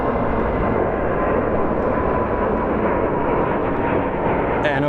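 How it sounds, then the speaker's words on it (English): Steady broadband roar of an Airbus A320neo at an airport, a continuous engine rush that holds level throughout, fairly loud and without clear peaks. "That is an A320neo."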